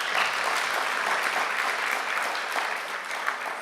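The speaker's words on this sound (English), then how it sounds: "let's give him another round of applause" A lecture audience applauds after a public lecture, steady dense clapping from a sizeable crowd, moderately loud and sustained for a few seconds with no voices on top.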